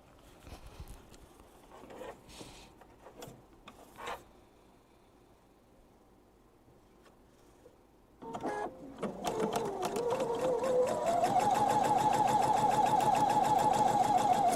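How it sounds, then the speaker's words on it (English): A sewing machine stitches a quarter-inch seam along the short end of a fabric tab. It starts after a quiet pause and then runs steadily and loudly, with its motor whine rising, alone without talk. "We're going to sew a seam along the short end of the tab."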